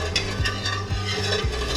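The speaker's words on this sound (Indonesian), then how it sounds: "Kita aduk-aduk terus sampai mendidih." A sugar and jelly mixture is stirred in a pot as it heats toward a boil, with a steady, rhythmic scrape of a spoon against the pot repeating every half second over a soft bubbling sizzle.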